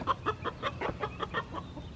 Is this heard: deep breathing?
no